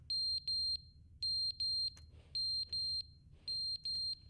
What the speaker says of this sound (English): I don't like this beeping.